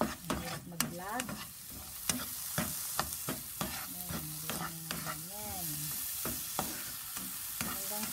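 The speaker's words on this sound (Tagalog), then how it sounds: "Isunod nyo ang sibuyas. Haluin nyo po siya." Onions sauté in butter in a hot pan and hiss steadily while a spatula scrapes and clacks against the pan in an irregular rhythm. There are faint squeaky tones in the background, and no one talks.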